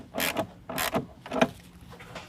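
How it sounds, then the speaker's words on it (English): An 8mm tool tightening a band clamp on a K&N air intake: a few close, quiet ratcheting clicks and short scraping turns in three distinct bursts, then a fainter fourth. "tighten down that band clamp"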